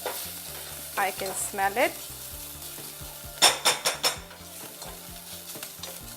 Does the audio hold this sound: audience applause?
no